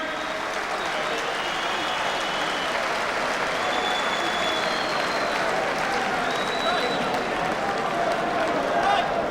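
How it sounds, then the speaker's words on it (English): A boxing crowd in Manchester applauds boxer Nigel Benn after his 1996 fight with Steve Collins, a dense, steady wash of clapping and crowd noise that stays loud and even throughout, with voices mixed into the roar. "I want everybody to give him a great round of applause"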